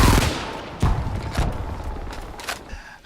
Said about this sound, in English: In multiplayer, the gunfights are fairly satisfying. A few well-placed shots will drop an enemy.